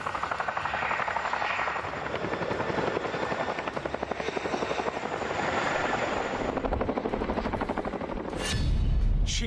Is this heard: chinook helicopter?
yes